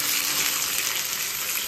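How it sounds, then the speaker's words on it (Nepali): Vegetables sizzle in a frying pan, a bright, continuous hiss close by with faint stirring and no talk over it. "यो चाहिँ फ्राई गर्ने भाँडा हो हाम्रो। हेर्नु साथीहरु, मैले चाहिँ सब्जी पनि हालिसकेँ।"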